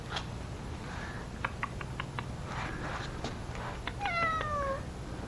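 A neighborhood cat gives a short meow near the end, faint to moderate, over a steady background hiss with a few light taps and clicks before it.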